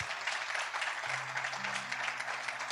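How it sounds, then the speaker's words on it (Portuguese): Faint, steady applause from a church congregation giving praise during a sermon, a soft continuous patter with a low hum beneath it. "dê um forte aplauso a Deus"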